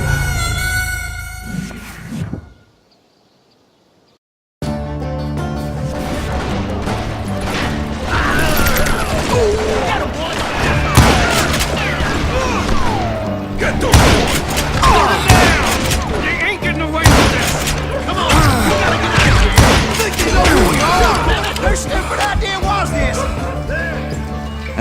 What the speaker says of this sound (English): Bullets were flying every which way as all the old feuds in Kansas caught fire all at once.